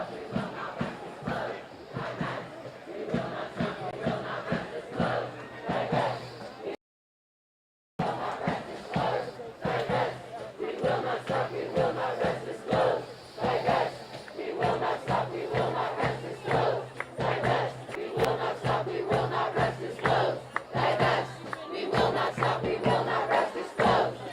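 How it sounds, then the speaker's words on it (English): A large crowd of pro-Palestine demonstrators on the Tulane University campus, during a clash with police, roars continuously with chanting and shouting. A brief dropout interrupts the dense din before it resumes at full strength. "obviously this is a much bigger crowd than what we saw last night in Jackson Square"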